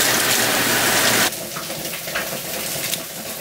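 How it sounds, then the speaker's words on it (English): Hot tap water running as food is rinsed under it, a loud steady gush that abruptly drops to a softer spattering stream partway through, close and with no talk. "just rinse them under the hot water"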